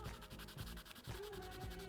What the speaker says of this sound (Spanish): Vamos a lijar un poco para crear ese biselado